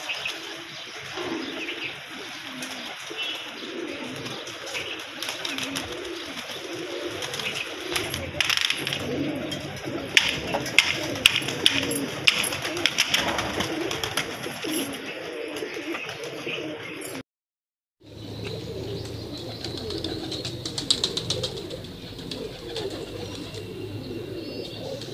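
Many pigeons cooing at Tawakkal Shah Baba shrine, known as the pigeon shrine, a dense, continuous murmur of coos with scattered chirps and wing flutters, steady throughout apart from a brief silent gap.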